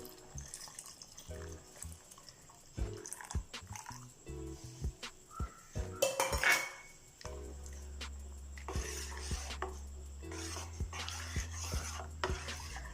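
Filtered jaggery syrup is stirred into semiya payasam in a pot, giving soft liquid stirring, sloshing and a few utensil knocks against the pot, with a low steady hum under the later part and no talk.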